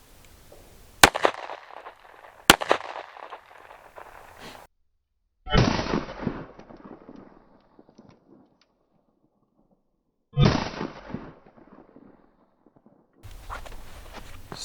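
5.7x28 rounds fired at body armor outdoors, heard as a few sharp, loud gunshot cracks, some followed by echoing decays, with quiet gaps in between.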